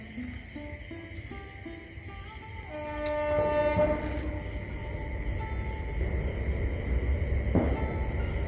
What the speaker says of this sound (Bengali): দূরে মাঠের ওপারে অমাবস্যার নিভাস অন্ধকারে এগিয়ে চলেছে ট্রেন তার গন্তব্যের দিকে।